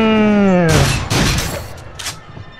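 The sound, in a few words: shotgun fire, from the VR video game Until Dawn: Rush of Blood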